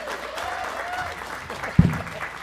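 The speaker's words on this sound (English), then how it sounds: "Let's give him another round of applause." Audience at a Sunday service gives a round of applause, a steady wash of clapping with one loud close thump near the end and some voices underneath.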